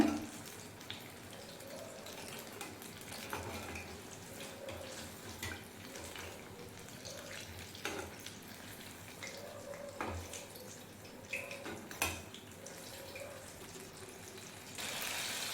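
Ripe banana bajji fritters deep-fry in hot oil over a medium flame, giving a steady, close, crackling hiss with scattered small pops throughout and no talking.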